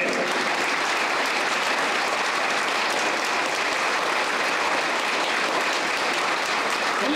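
An audience at a comedy debate event claps in a sustained, dense burst of applause that stays loud and even throughout, with no break.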